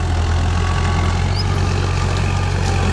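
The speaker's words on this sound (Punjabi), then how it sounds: "ਇਹ ਟਰੈਕਟਰ ਹੈ ਜੀ ਆਪਣਾ ਗਾਜ਼ੀ 2014 ਦਾ ਮਾਡਲ" A 2014 Ghazi tractor's diesel engine idles steadily nearby, a loud, constant low rumble with an even throb and no pauses.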